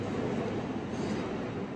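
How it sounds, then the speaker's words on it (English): A steady rumbling roar of a train on the rails, constant and fairly close, with no other sounds standing out. "I think my train is coming."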